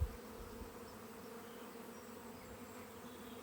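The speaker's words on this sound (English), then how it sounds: "some of these bees may get confused and end up going in that hive" Honey bees from a swarm buzz steadily around a top bar hive, a continuous close drone with no talking.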